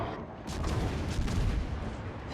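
Ship guns of the Russian tier 10 light cruiser A. Nevsky fire in a naval battle game on an icy island map, a deep rumbling salvo with booming low thuds that rolls on steadily, moderately loud and without speech.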